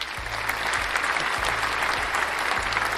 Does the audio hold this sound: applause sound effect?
yes